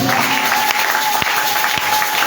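Church congregation applauding and cheering during a sermon, a steady dense wash of clapping and crowd noise held at close, even loudness throughout.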